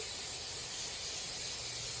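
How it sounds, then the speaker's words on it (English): Cooking spray hisses into a Dutch oven pan in one continuous, close, bright spray lasting a couple of seconds, with no voices over it. "We're going to use a little bit of cooking spray."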